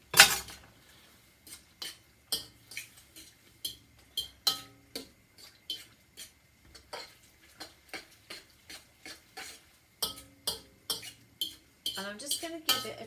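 A spoon stirs food in a pan, producing a series of sharp metallic scrapes and clinks in an irregular rhythm, close by and alone without speech.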